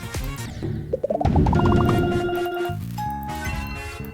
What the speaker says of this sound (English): RobTop's old game Boomlings has a similar sound called Counter001